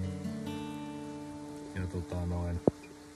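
Rain falls outdoors during a session of mixing red ochre paint, a steady hiss beneath a low hum, broken near the end by a few thuds and a sharp knock.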